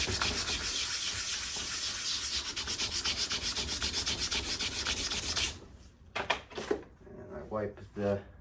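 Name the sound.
sandpaper sanding rust off an old axe head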